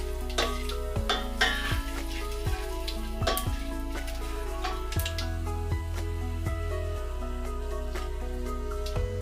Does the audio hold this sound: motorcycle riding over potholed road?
no